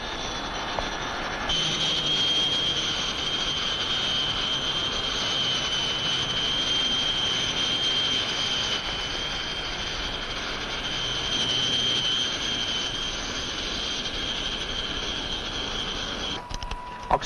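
Four-engine aircraft running up its engines before takeoff in a 1960 film, a loud, steady roar with a high whine holding throughout, close and continuous without speech.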